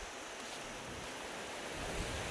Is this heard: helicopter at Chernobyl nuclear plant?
no